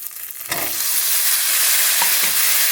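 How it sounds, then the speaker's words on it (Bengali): Spices with turmeric sizzle in a hot pan for a beetroot dish, starting quiet and then breaking into a loud, steady frying hiss with faint stirring scrapes, no voices. "দিয়ে ভালোভাবে মশলাটাকে কষিয়ে নেব"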